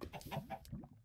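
A chicken in Minecraft clucks in a quick run of three or four close, clear calls, alone with no talk.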